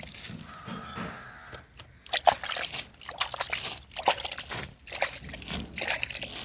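Water is poured onto cashew plants in damp ground, soft sloshing and trickling splashes in uneven bursts, fairly quiet and close, with no clear talk.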